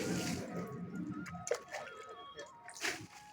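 Water sprayed into a dusty air conditioner outdoor unit during cleaning, with splashing and dripping bursts that come and go irregularly, fairly faint and close, with brief louder spurts.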